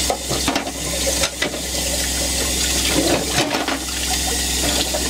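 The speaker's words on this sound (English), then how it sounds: "I actually like to still run clean water. After I brush it, just kind of run. Yeah, clean water, rinse everything." Clean water runs from a tap while Omega NC800 juicer parts are rinsed by hand, a steady close splashing rush with a few brief dips as the pieces move under the stream.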